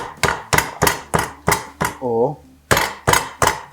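A fist pounding butterflied pork tenderloin on a board, about ten heavy, evenly spaced thuds, close and loud, with a brief voiced sound in a short pause between them.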